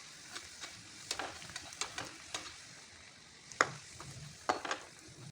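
Bhatura dough sizzles steadily in hot oil in a home kitchen while a spoon ladles oil over it, with scattered sharp taps of utensil against the pan.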